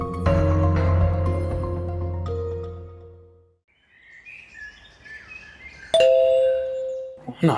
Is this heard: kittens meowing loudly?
no